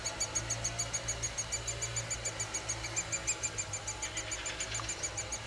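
Woodpecker chicks call from a nest hole in a tree in a forest with rapid, rhythmic high-pitched squeaking and peeping. The sound is faint and distant and continues steadily throughout.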